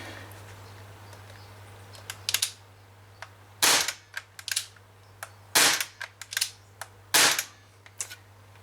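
An Umarex HK MP5K CO2 airsoft gun fires BBs in a few sharp, close cracks spaced a second or two apart, with small clicks between shots over a low steady hum.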